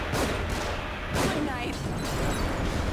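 Enemy gunfire in the survival horror game The Evil Within comes as a few sharp, booming bursts spread across a continuous loud, noisy background.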